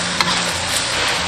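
Duck meat stir-fried in a pan over low heat, seasoned with salt and soy sauce, giving a steady broadband sizzle with a sharp scrape of the spatula early on and continuous stirring throughout.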